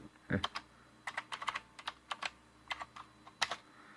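Keys tapped on a computer keyboard beside a Windows 8 machine, a scattered run of close, distinct clicks with short pauses between them, alone and fairly quiet.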